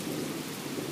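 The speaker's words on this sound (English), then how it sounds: "This storm looks great." Rain falls steadily through a morning thunderstorm, with a low rolling rumble of thunder under the constant wash, heard at a distance.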